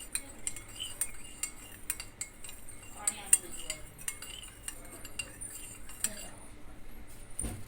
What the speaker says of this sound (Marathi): चला आता हे मिक्स करायचं चमच्याने